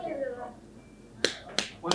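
Three sharp hand claps, close and distinct, spaced unevenly after a brief voice.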